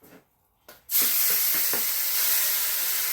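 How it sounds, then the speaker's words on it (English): Beef hits hot peanut oil in a wok after a couple of quiet knocks, bursting into a loud, sustained searing hiss with a few pops and crackles in the first seconds. "We're going to go in with a couple of tablespoons of peanut oil. Let's coat the bottom of the wok. And we're going to go in with the beef."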